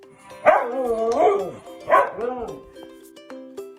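A dog barks twice loudly and close by in quick succession, each bark ringing out with a whiny tone. A fainter yip follows, with some light background noise in between.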